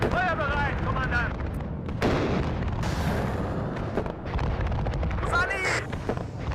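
Cluster munitions striking a target in the Cold War strategy game WARNO, a rolling barrage of loud blasts and crackling impacts, with sharp bursts near two and three seconds, layered over battle noise and radio chatter.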